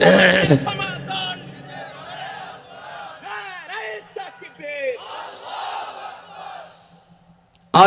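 A crowd at a religious gathering shouts the takbir in response, a loud collective chant that breaks out at the start, then softer drawn-out calls and voices through the middle, ending with another loud burst.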